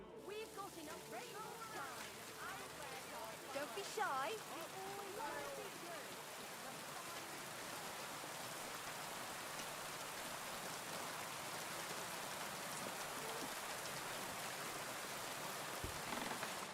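Steady rain hisses across the whole stretch in Kingdom Come Deliverance II, a dense even wash of drops on surfaces, with voices talking over it near the start.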